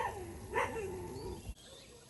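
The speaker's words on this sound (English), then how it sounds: "Can hear one of the neighbours' dogs barking down there" Neighbours' dogs on a farm in Thailand bark faintly in the distance, a few short yaps carrying over quiet outdoor ambience.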